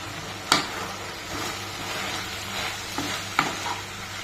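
Okra and tomato curry with turmeric fries in a pan, a continuous close sizzle punctuated by a few sharp scraping stirs of a spatula, with nobody speaking.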